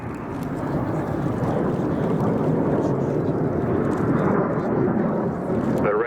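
Red Arrows RAF aerobatic jets roar steadily through a flying display, a loud sustained broadband rumble with no clear breaks.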